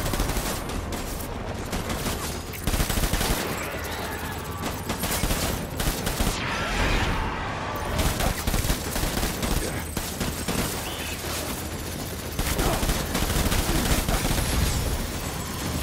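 Dense gunfire in the video game Death Stranding, a WWII-style battle with sustained machine-gun bursts and fusillades, loud and nearly continuous, briefly dipping before roaring back.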